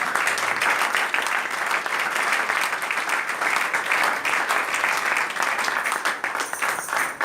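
A church congregation applauds in praise of the Lord, with dense, sustained clapping that carries on loudly and evenly from start to finish.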